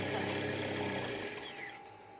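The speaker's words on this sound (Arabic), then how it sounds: "ونبدا نخيط" A sewing machine runs steadily while stitching fabric for bed sheets, its continuous mechanical whir loud at first and then slowing and fading toward the end.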